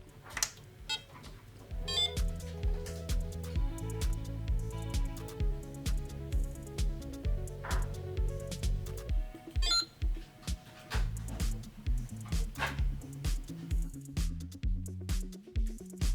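An Apple II Europlus running a ROM diagnostic after its RAM sockets were filled gives out a steady stream of electronic beeps and tones. The beeping pulses rhythmically over a constant buzzy hum, loud and close, with no voices.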